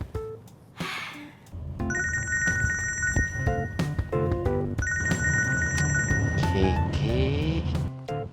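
A telephone rings in a loud, repeating electronic pattern, with bursts of tones sounding over a busy background during a scene of an Indonesian TV drama series.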